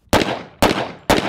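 A Double Barrel 1911 pistol fires three loud, sharp shots, evenly spaced about half a second apart, each with a short ringing decay.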